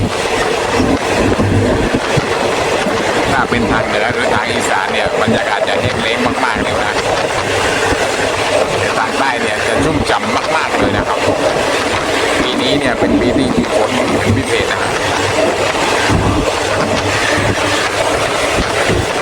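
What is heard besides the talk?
Thai rapid train 167 departing station, Bangkok to Kantang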